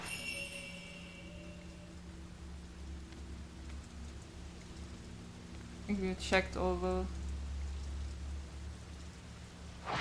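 Steady, faint patter of rain against a window in the horror video game Fatal Frame: Maiden of Black Water, a soft continuous hiss with a low hum beneath, while someone briefly speaks midway.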